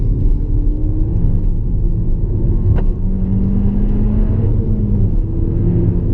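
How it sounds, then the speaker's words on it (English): A Peugeot 308 GTi 270 accelerates hard out of a tight corner, its engine a loud, steady rumbling drone heard from inside the car, with the pitch climbing gradually under throttle. "this corner's pretty tight. I'll give it a lot of throttle."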